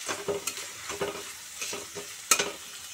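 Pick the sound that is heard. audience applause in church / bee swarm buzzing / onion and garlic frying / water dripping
onion and garlic frying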